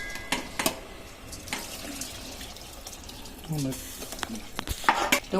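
Water is poured into a pan of soybean masala rice with vegetables and spices, with splashing and hissing broken by a few metal clanks. A brief voice is faintly present in the background.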